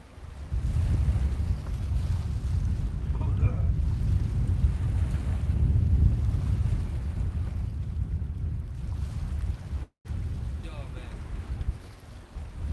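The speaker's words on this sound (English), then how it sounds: "the wind is just, would finish you right off" Strong, cold wind buffets the microphone on a lakeshore while pike fishing, a loud, steady low roar that continues throughout with a brief dropout near the end.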